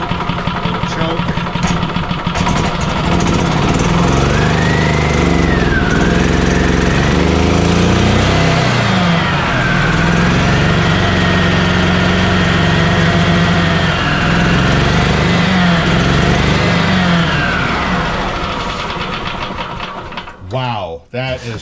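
Gas engine of a 1998 Yamaha G16 golf cart running steadily at a high, buzzing idle close by, its pitch wavering slightly, with a voice speaking over it before it cuts off near the end.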